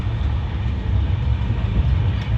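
Pune Express passenger train rolling at speed, a steady loud low rumble of wheels and carriage filling the whole stretch without pause, with no talk.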